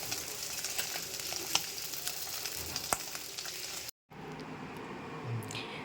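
Fish frying in a pan for a home birthday meal, a steady broadband sizzle with a few sharp pops, continuous and fairly close, then a short cut followed by a quieter, softer sizzle.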